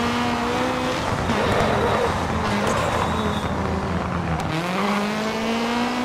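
A Mitsubishi Evo rally car in DiRT Rally on a German stage holds a loud, continuous engine roar that rises and dips in pitch through gear changes, with tyre and gravel noise underneath.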